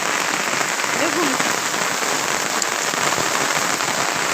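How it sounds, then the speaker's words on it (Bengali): Heavy rain pours down steadily, a dense, even roar of drops hitting surfaces all around, with a brief faint voice heard under it. "দেখুন প্রচুর পরিমাণের বৃষ্টি নামতেছে"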